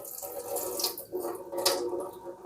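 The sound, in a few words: draining yellow water from grated cassava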